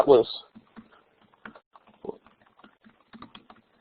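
Someone types on a computer keyboard, with scattered soft key clicks in uneven bursts near a speaking voice.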